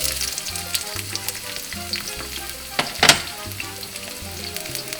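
Onions sizzle and fry in a hot wok, a steady crackling hiss with a brief louder burst of spatter midway, close and alone with no voices.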